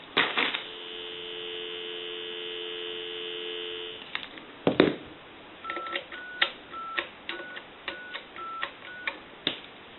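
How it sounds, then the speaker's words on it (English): A steady dial tone from a repaired and converted three-slot touch-tone payphone hums for about four seconds, then cuts off into a series of clicks and short tones as a number is dialed. "I'll go ahead and give you some dial tone"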